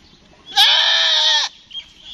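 A goat gives a single loud, sustained bleat lasting about a second as it calls after its kid, close by, with faint background noise around it.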